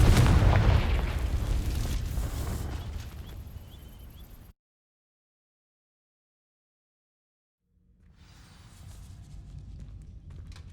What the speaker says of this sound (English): These dry vines are one spark away from becoming kindling. Confringo!